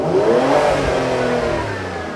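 A car engine is revved hard, loud and close, its exhaust giving off a steady run of pops and bangs as the revs climb and fall.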